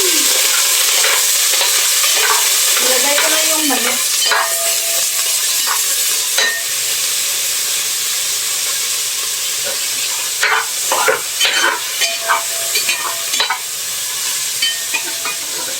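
Rice noodles (bihon) sizzle and hiss steadily in a hot pan, with scraping and clinking from stirring scattered throughout; loud and close, no talking.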